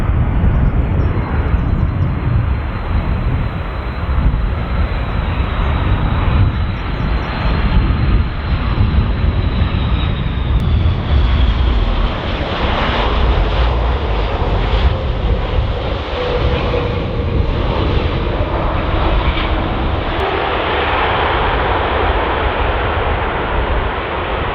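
An airliner landing at Dublin Airport, a loud roaring jet rush with a whining engine tone that gradually shifts as the plane touches down and rolls out, heard from outdoors without talking.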